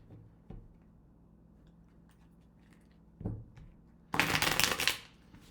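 Tarot card decks are shuffled by hand, with a short riffle and then a louder, bright flurry of flicking cards close to the microphone near the end, nothing else in a quiet room.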